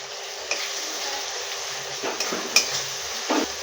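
Chilli, turmeric, coriander and cumin powders fry with split sour curd and mushrooms in a pan, a steady close sizzle broken by a few scraping stirs and light clinks of the spatula against the metal.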